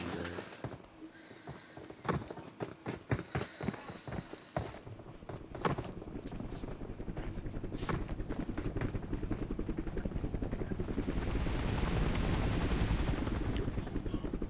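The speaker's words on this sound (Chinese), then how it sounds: "为什么会有直升机的声音啊？" Rapid bursts of gunfire crack through a battle royale video game at the start, then a loud, steady helicopter rotor drone builds and holds near and close for the rest, with no talk over it.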